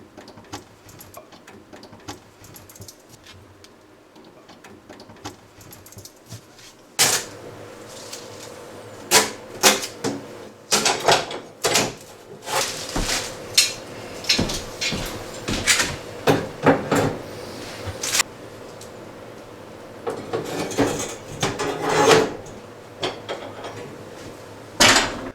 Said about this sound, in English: set up our burners and our grates